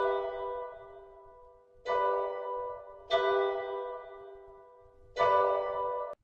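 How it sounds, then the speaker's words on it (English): Filtered piano chords run through a vocoder, wave shaper and flanger ring out in three sustained, bell-like strikes that slowly fade, soft and alone. "I filtered this piano with a vocoder, the wave shaper, and a flanger."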